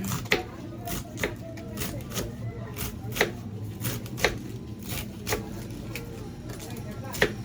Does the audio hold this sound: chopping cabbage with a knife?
yes